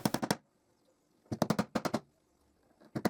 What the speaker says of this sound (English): I drive some nails in the clamping jig